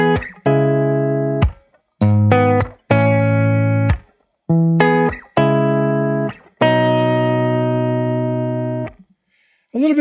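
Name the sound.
guitar through Deluxe Reverb amp, U87 and Tab 57 mics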